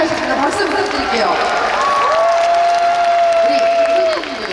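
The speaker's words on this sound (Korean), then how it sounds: "박수 부탁드릴게요." Outdoor festival crowd applauding and cheering before a film stage's open-air platform, a dense, loud wash of clapping that holds steady for several seconds, with a sustained tone running through it and voices in the crowd.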